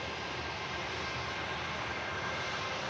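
A Lufthansa Airbus A321 with IAE engines taxiing on the ground at Manchester Airport, a steady broad engine roar and hiss heard from a moderate distance with no clear change in level.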